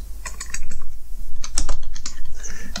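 Close, steady typing on a computer keyboard as a question is entered into a Zoom meeting poll, with rapid clustered keystrokes running throughout and no voices.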